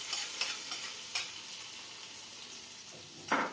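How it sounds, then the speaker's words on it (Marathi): A cooled tadka tempering is stirred into chutney in a home kitchen, made alongside mixed dal and rice appe. A spoon scrapes and taps the bowl in a soft, uneven rhythm up close, with faint crackles and no talk. "तडका दिले थंड झाले ते मी आता चटणीमध्ये मिक्स करते."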